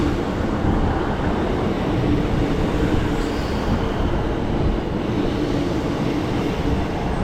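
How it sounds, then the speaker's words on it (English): A Class 150/156 diesel multiple unit pulling into a station on the Blackpool South line, a steady loud rumble of engine and wheels with wind buffeting throughout and no talk. "arriving in now is going to be the 11:05 service to Blackpool South"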